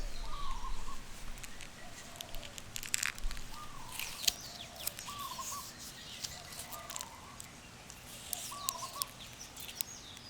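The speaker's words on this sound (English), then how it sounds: "birds are cooing, just as I predicted." Birds call softly in a Hawaiian outdoor setting, with short repeated cooing-like phrases recurring every couple of seconds over a steady hiss of ambient background, fairly distant and quiet, with no one speaking.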